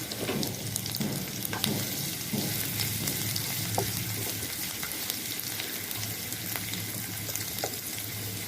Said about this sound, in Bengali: পেঁয়াজ ব্রাউন কালার ফ্রাই হয়ে আসছে।